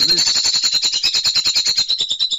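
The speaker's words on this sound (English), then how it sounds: "The birds, of course, going nuts right off the bat." A flock of birds in the video game Silent Hill Homecoming squawks loudly and frantically in a rapid, steady run of harsh, shrill calls with no other sound over them.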